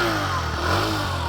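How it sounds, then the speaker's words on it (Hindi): A Hero Glamour X 125cc motorcycle engine running close by, a steady loud throb with a slight rise and fall in revs, no voices over it. "आइडियल कंडीशन पर इंजन साउंड सुनो,"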